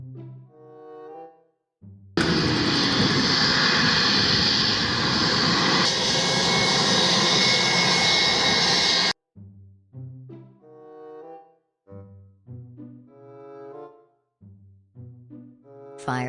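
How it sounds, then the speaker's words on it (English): A toy airplane sound effect plays for about seven seconds, a loud, steady electronic jet roar that starts abruptly and cuts off sharply, with short musical toy tones before and after it. "Plane."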